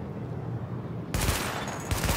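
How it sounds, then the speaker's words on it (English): Automatic weapon fire at highlighted targets in The Division's weapon test cracks out after a second of quiet, then continues as loud, dense rapid bursts with a short second volley. "Open fire at the highlighted targets."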